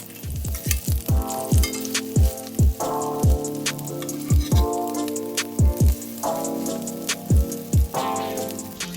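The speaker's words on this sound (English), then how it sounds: "Cook your cakes in batches, about 3 to 4 cakes at a time." Salmon cakes frying in batches in a pan, a steady close sizzle under a series of sharp clacking and scraping knocks from utensils against the pan at irregular intervals, with no talk.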